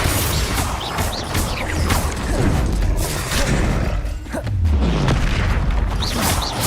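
Repeated blasting-spell explosions from the Hogwarts Legacy video game boom heavily and continuously, with dense bursts, crashes and rumbling impacts layered close and loud, faint voice cues mixed under the din.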